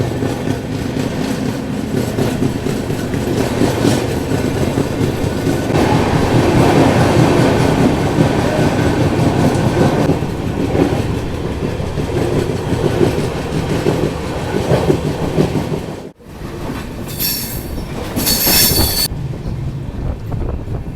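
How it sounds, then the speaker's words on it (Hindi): Indore Patna Express train rolling slowly through a railway station, a loud continuous rumble with rhythmic clickety-clack of wheels and wind buffeting, dropping briefly to near silence before noisy hissing bursts return. "एकदम सुस्त रफ्तार में इस वक्त हम बेया रेलवे स्टेशन को क्रॉस कर रहे हैं।"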